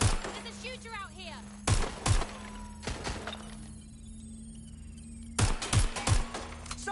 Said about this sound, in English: Shots fired! Oh, fuck! There's a shooter out here!